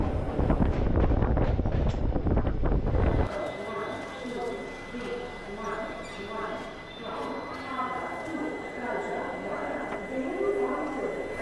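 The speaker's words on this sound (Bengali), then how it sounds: "আমাদের ট্রেন তখন ঢুকতে চলেছে গয়া স্টেশনে।" The Netaji Express on the Howrah to Shimla route pulls into Gaya station: a loud, heavy rumble for the first few seconds, then a quieter, steady rolling clatter with a thin sustained whine.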